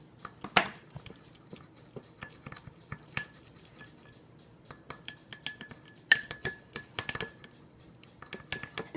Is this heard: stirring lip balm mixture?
yes